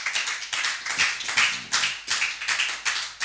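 A church congregation applauds with steady, rhythmic clapping, close and lively, repeating evenly for a few seconds without talk.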